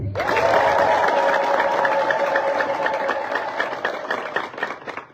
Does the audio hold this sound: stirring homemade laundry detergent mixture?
no